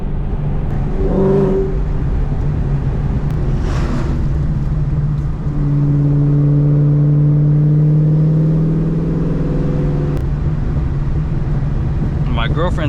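Dodge Charger Hellcat engine revving up and pulling away loudly nearby, a steady deep drone rising in pitch over several seconds, with people talking over it.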